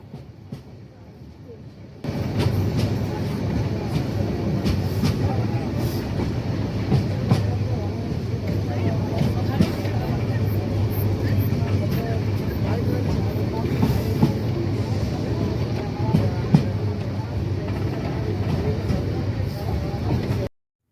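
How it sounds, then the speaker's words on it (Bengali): The Mohanagar Godhuli Express train pulls into Comilla railway station, a loud continuous rumble and rattle of rail cars rising after a quieter start and holding steady with faint clacks and squeaks. "এই মুহূর্তে আমাদের ট্রেন পৌঁছে গেছে তার যাত্রাবিরতির চতুর্থ স্টপেজ কুমিল্লা রেলওয়ে স্টেশন"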